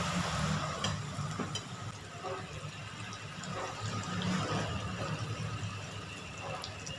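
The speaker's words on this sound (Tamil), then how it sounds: "இப்போ இதை இதில் போட்டு பொரிச்சு எடுக்கலாம்." Chickpea pakoda fritters fry in hot oil, giving a steady, continuous sizzle and bubbling hiss that stays close and even throughout.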